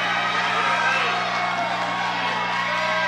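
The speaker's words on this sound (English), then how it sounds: "this crowd is going crazy here" A packed fight crowd at a boxing co-main event roars and whoops continuously, a loud dense wall of cheering and shouting that holds steady throughout.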